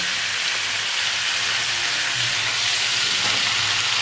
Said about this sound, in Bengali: চলো পুঁই শাকগুলো সব দিয়ে নিই। পুঁই শাকগুলো সব দিয়ে দিয়েছি